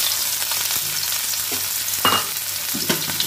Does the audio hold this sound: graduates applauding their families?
no